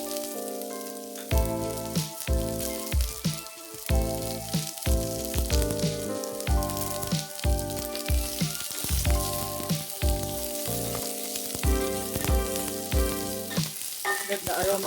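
Onion sizzling in a pan as the first step of a pumpkin and carrot soup, with a steady frying hiss and occasional stirring, under a continuous melodic tone throughout, with no talking.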